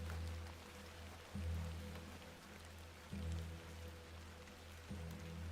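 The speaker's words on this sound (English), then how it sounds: "Let's get out of the rain." Soft, steady rain in The Excavation of Hob's Barrow, a faint patter under a low droning ambience that swells gently every couple of seconds.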